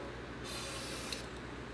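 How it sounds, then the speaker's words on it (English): Ballistol oil sprayed down the barrel of a Browning Citori Lightning 12 gauge over-under shotgun, a short close hissing burst of aerosol. "I go ahead and spray a little bit down each barrel"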